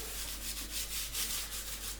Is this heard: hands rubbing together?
yes